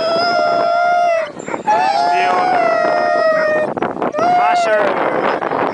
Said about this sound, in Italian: masher islandese che usa cani groenlandesi